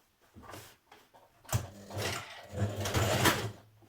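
A sewing machine stitches a skirt seam, with short hesitant bursts of motor whir at first, then longer, louder runs of steady stitching, close by.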